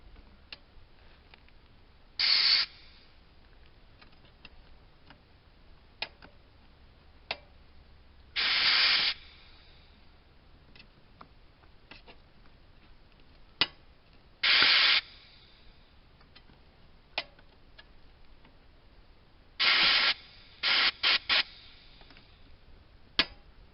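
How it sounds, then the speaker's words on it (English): Short compressed-air bursts from an air gun fed through a hose and pipe, forcing Ford truck brake caliper pistons out: about six loud hissing blasts, several a second or so long, the last three in a quick cluster, with faint clicks between. "Had to take a piece of hose, put on my air gun there, a piece of pipe, and they're moving right on out"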